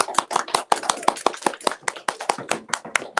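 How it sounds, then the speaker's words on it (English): Applause for an award winner at a school behavior assembly: a dense run of sharp claps from a small group nearby, steady and fairly loud for about three seconds, with no voices. "Give her a round of applause."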